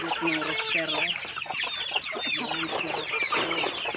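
A rooster clucks repeatedly and close, a steady run of short guttural calls with brief pauses, loud and alone, on a backyard Filipino flock being fed.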